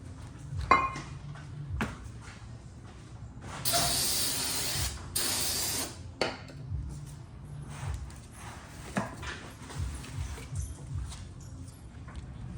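Brake cleaner sprays onto the mating surfaces of new front brake rotors on a 4th gen Mazda 3, two close loud hissing bursts of about two seconds each, surrounded by clinks and knocks of handling parts.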